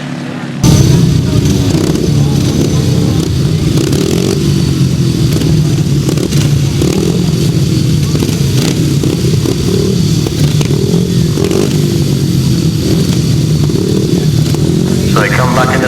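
Grasstrack racing motorcycles in a 2011 race meeting: a continuous loud, dense roar of several engines revving together close by, with rattles and scraping mixed in and no pause for the whole stretch.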